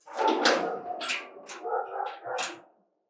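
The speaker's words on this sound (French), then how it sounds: "Tu n'as pas donné la nourriture au chien?" A dog whimpers and lets out short yelping barks in a few bursts over about three seconds, fairly close and clear, with no talking over it.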